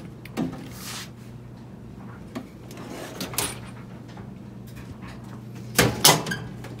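Drawers of a Craftsman 52-inch tool box sliding shut after assembly, with drawer liners fitted, giving a few separate thuds and clunks spread through the stretch over a low steady hum, the loudest closing near the end.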